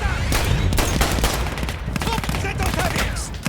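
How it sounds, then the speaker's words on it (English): A Model 5 Browning semi-automatic shotgun fires in Battlefield 1 amid a dense battle, with rapid overlapping gunshots and other weapons cracking loudly and continuously, and faint voices underneath. "what is this, like the Model 5 Browning? Yeah, basically the first semi-auto shotgun."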